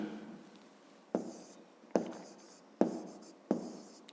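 A pen writing on paper while working a fifth-grade math exercise, heard as four distinct close scratchy strokes spaced under a second apart against a quiet room.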